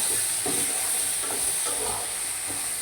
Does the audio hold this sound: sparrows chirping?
no